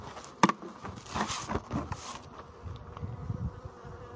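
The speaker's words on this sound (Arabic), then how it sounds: "نشاهد جميعا النحل جد جيد، كثافة نحلية ما شاء الله. اولا النحل فوق الخلية" Honeybees swarm densely above an open beehive, a steady close insect buzz with sharper passes as bees fly near, and no talk over it.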